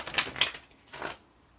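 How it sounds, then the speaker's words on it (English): Tarot cards being shuffled during a reading: two sharp riffling bursts close together, then a longer softer shuffle, loud and close with no talk. "Let's get some more shuffle."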